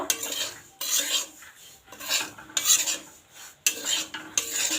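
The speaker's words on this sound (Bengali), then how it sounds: "সুজিটাকে ভালোভাবে নেড়ে নেব" A spatula stirring dry semolina in a metal pan for halwa, producing rhythmic gritty scraping strokes in bursts with short pauses between, close and clear, without speech.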